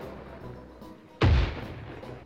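A mine goes off in a video game as a single sudden, heavy boom. It follows a quieter stretch and rumbles on briefly as it fades.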